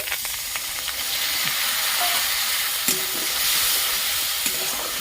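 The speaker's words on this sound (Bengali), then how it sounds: "ভালো করে একটু কষিয়ে নেব" Cumin and coriander paste frying in a pan hisses and sizzles steadily, with light stirring scrapes and small clinks running through it, no voices.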